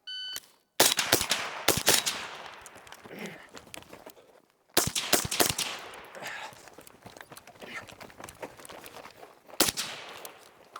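An AR-style rifle fires through a Griffin Armament Dual-Lok HRT 5.56 suppressor in two rapid strings of close, muffled cracks, with a brief pause between the strings and a few shots toward the end.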